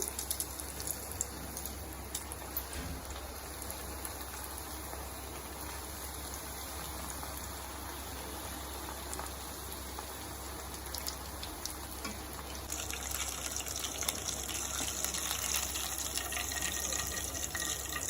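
Bread chicken rolls deep frying in hot oil give a steady, dense crackling sizzle that runs unbroken throughout and grows a little louder and brighter toward the end, with no talking.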